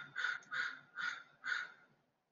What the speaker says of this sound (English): I can hear a crow in the background.